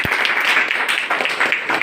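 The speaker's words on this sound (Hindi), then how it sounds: "छोटन जी के लिए ताली बजा दो" An audience claps for a man called Chotan ji as he is invited up from the crowd, a dense, steady patter of many hands lasting under two seconds at a fairly even level.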